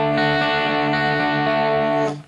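A loud, sustained distorted electric guitar chord rings out with a thick, buzzing tone, then cuts off abruptly near the end.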